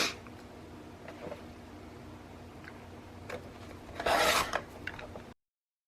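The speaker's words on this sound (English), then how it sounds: "I want to trim off these white borders on here." White borders are trimmed off paper, with quiet scattered scraping ticks and then a louder burst of rasping cuts near the end before it falls silent.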